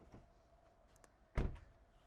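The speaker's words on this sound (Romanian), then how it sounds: "Ușile se deschid din butoane, uite așa." Button-operated door on a Zeekr X electric car with no handles: a faint click, then a solid close-range thunk of the door unlatching and moving, with no talk.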